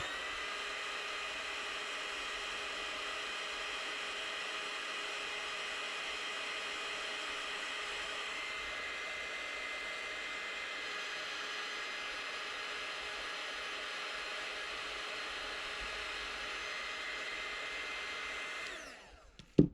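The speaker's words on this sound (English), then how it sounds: "So now we're gonna use heat gun to recondition the plastic." A heat gun blows on the plastic of a broken Dyson V8–V15 direct drive connector joint, giving a steady, close, loud airy hiss and whine that runs unbroken for nearly twenty seconds before cutting off.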